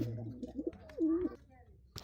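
Pigeons in a backyard loft give one soft, low coo in the middle, set among faint rustling and other small sounds nearby.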